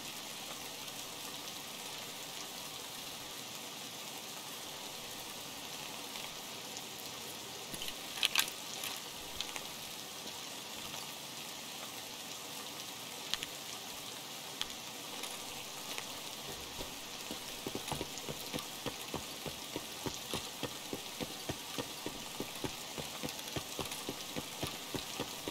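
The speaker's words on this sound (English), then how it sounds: "The rain kind of makes it harder to hear footsteps and such." Rain patters steadily throughout an Escape from Tarkov raid, a constant hiss joined in the second half by a low, rhythmic mechanical thrumming, with no voices.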